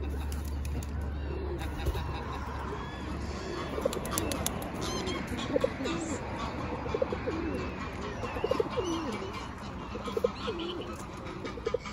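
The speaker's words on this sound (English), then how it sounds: "Hello, pigeon." Pigeons cooing softly in an outdoor spot with other birds, low repeated coos over steady ambient noise and a faint chirp or two, with occasional brief sounds of a person nearby.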